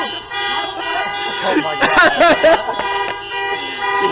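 Several car alarms, a Subaru among them, blare at once after their panic buttons are pressed under a bridge, a dense wall of overlapping horn toots and wailing tones that surge loud near the middle, with a voice exclaiming over them.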